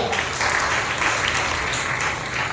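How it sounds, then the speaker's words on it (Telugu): Church congregation clapping loudly at a Sunday worship service in Nellore, a dense, steady wash of applause throughout with no pauses. "బిగ్గరగా చప్పట్లు కొట్టి ప్రభువును భయపరచండి, బిగ్గరగా"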